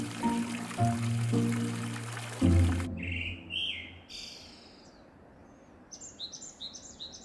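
Birds chirp and trill in quick bursts over a steady rush of a clear mountain stream on Duryunsan, South Korea, following a few seconds of low, sustained tones at the start.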